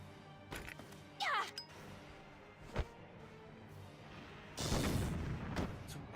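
A grenade blows up in the Valkyria Chronicles video game, a loud broadband blast lasting over a second near the end, preceded by a sharp single thud and scattered softer battlefield clatter.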